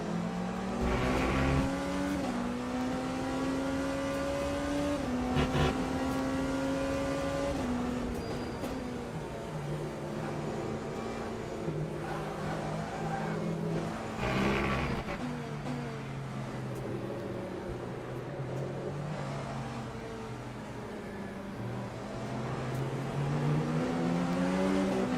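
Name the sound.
hypercar engine in racing video game Le Mans Ultimate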